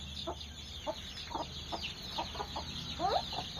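Chickens cluck at a village house, a series of short soft clucks spaced irregularly over a steady background hum, with a slightly louder burst near the end.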